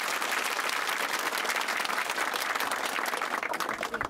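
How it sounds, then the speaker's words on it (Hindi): A crowd at a public rally in Bilo Kalan, Shivpuri, breaks into loud, sustained applause, dense clapping filling the whole stretch and tapering slightly near the end. "अरे अच्छे से ताली बजाओ दीप्ति के लिए।"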